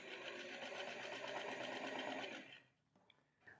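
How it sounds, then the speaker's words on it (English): A sewing machine stitches a curved seam through the seat of a pair of jeans, running loud and steady for about two and a half seconds before stopping, followed by a couple of faint clicks. "Let's also sew this curve through the butt here."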